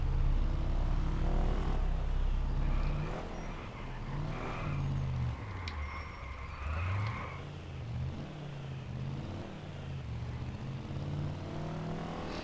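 Chevalier Icebreaker vehicle in Just Cause 2 driving across snowy, icy plains, a steady engine drone with shifting revs and some tire noise, loud and continuous throughout.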